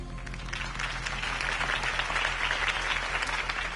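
Steady applause from a crowd in the video game Batman: The Telltale Series, sustained and moderately loud, with no clear voices over it.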